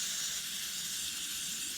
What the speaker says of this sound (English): lube the hell out of it with some WD-40